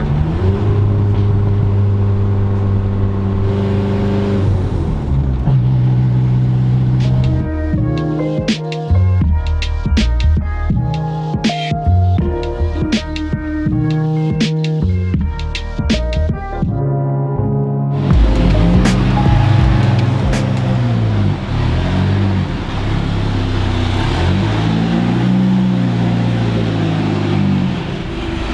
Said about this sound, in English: So as much as the turbo flutter sounds cool, that noise is pretty much saying that the spring of the blow valve isn't working